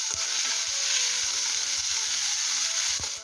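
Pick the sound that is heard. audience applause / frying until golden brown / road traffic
frying until golden brown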